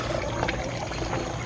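Water pours in a steady, close splashing stream while a garden is watered, brief and continuous with no voices.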